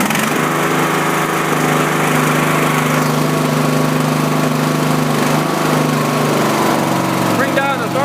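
A Craftsman LT1000 lawn tractor, around a 2001 model, runs from a cold start with the hood open, its engine droning loud and steady with a firm harmonic hum, and a voice briefly heard near the end.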